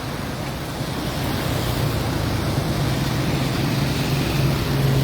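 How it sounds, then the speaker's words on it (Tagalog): Strong floodwater current rushes through the Pasig floodway during a typhoon, a steady, loud, broadband roar of churning water, constant throughout with no voices. "Ganyan kalakas yung current oh."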